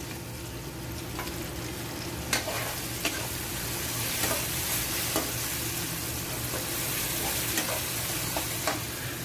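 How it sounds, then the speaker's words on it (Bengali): Tomatoes cooked in a pot, a continuous loud sizzle with intermittent scraping strokes and light clinks of a utensil being stirred around, close up and without talk. "আমরা একটু লেড়ে নিব যাতে আমাদের পাতিলের মধ্যে লেগে না যায়"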